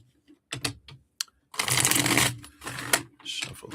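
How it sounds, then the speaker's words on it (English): A deck of reading cards being shuffled at a table during a live card reading, with a few quick riffling bursts followed by a longer, dense run of papery flutter, close and fairly loud, with no talk over it. "Shuffle these up."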